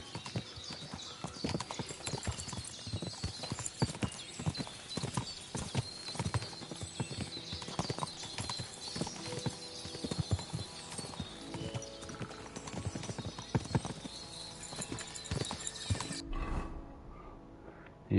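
Steady clip-clop of horse hooves in the medieval game Kingdom Come: Deliverance II, a busy continuous gait with occasional neighs, loud and close, cutting off into near silence at the end.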